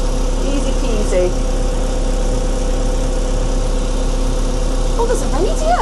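A JCB backhoe loader engine pulling in third gear makes a steady, close, droning hum that runs unbroken throughout, with a brief voice near the end.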